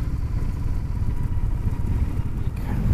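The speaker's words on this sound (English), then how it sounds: "The bike itself is a Harley-Davidson 2017 Lowrider." A 2017 Harley-Davidson Low Rider motorcycle engine gives a steady, loud low rumble throughout, with no speech over it.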